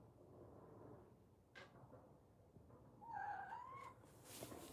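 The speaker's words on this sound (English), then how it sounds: "Some cat down here is making grumble trousers noises." A cat lets out a few low grumbling, whining vocalizations over a faint background hum, with one drawn-out moaning call near the end; quiet and fairly close.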